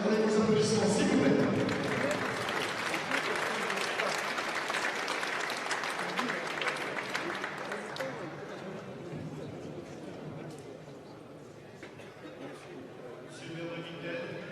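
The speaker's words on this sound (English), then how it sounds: "Avec vos applaudissements, s'il vous plaît." Audience applause fills a hall at the European Indoor Archery Championships ceremony in Vittel, loud and sustained at first, then gradually thinning and fading, with a voice speaking over it.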